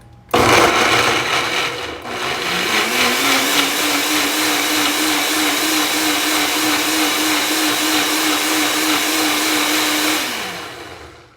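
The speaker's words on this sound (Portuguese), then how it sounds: "E agora vai ser um pouquinho barulhento porque eu vou bater o..." A kitchen blender whirs loudly and steadily for about ten seconds while blending a spice mixture, spinning up at the start, holding a constant high drone, then winding down and stopping.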